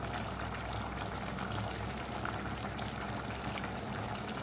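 Pot of water with chicken at a rolling boil, a dense, continuous bubbling and gurgling that stays steady and close for the whole stretch.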